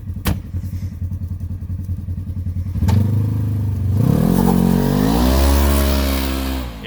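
A Polaris General UTV fitted with a Gilomen clutch kit and tuned ECU accelerates hard in high range: a steady engine drone up to about three seconds, then a loud, rising rev that climbs and holds near the end.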